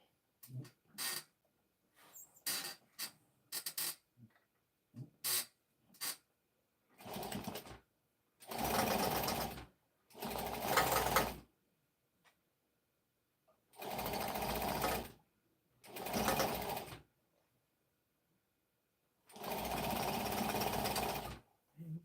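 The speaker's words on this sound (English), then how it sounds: "As I turn that seam under and stitch it." A domestic sewing machine stitches a turned-under seam, running in bursts of a few seconds each with short pauses between, preceded by quick stop-start taps, loud and close with no talk.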